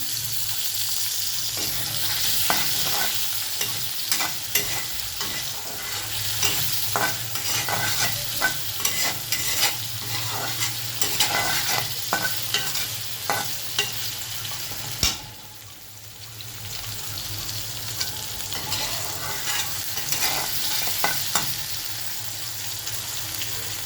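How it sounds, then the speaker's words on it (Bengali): Chopped onion and tomato frying in oil with a little cinnamon for an egg and potato curry, a steady loud sizzle running throughout with repeated scraping stirs of the spoon against the pan. "এবার পেঁয়াজটাকে বেশ ভাজা ভাজা করে নেবে লাল লাল করে"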